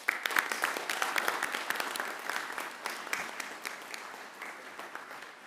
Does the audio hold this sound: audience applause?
yes